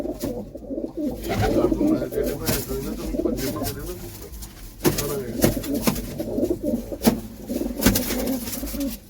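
Pigeons cooing in soft, repeated low calls, mixed with someone talking nearby and general background noise.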